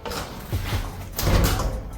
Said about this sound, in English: You guys have seen me do videos where I kind of kick the door open